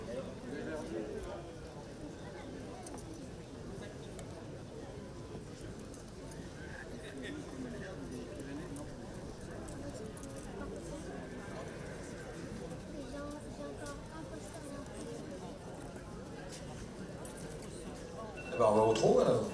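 At a horse show, a horse's hooves beat a steady clip-clop trotting rhythm under continuous French commentary from an announcer.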